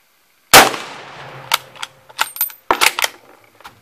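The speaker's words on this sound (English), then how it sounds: "I'm just going to do 5 rounds bench at 50 just to show you how it groups" A single loud, close rifle shot from a French MAS 36 fired at the bench over 50 yards, followed by a scatter of sharp metallic clinks and clatters, likely bolt cycling and a spent case dropping.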